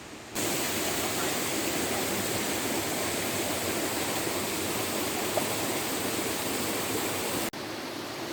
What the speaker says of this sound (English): I think I can hear the waterfalls in the distance